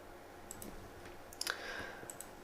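A computer mouse clicks a few times while a folder is selected in a software window. The clicks are soft and close, with a brief chime-like tone in a quiet room.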